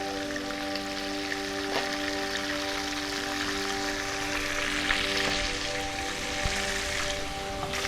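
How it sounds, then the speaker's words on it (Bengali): Fish heads frying in oil over an open-air outdoor kitchen fire, a steady crackling hiss of sizzling fat that holds throughout at moderate level, with a faint tonal hum underneath. "মাথাগুলো ভাজা হয়ে গেছে"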